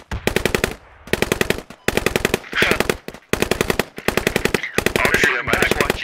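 A light machine gun fires in the video game Squad, with loud, rapid automatic bursts of about a second each separated by short gaps, six or seven bursts in a row at close range.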